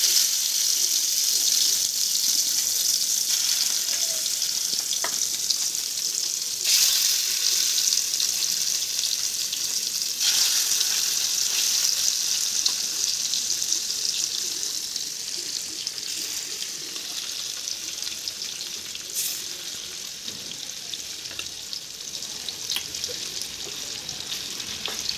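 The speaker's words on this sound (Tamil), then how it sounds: "அடிகனமான பேனில் தேவையான அளவு எண்ணெய் விட்டு, எண்ணெய் சூடானதுக்கப்புறம் மொறுமொறுன்னு வர வரைக்கும் பொரிச்சிடுங்க" White lady fish frying in hot oil in a heavy-bottomed pan, a loud continuous crackling sizzle heard up close, easing slightly in the second half, with occasional faint clicks and no talk.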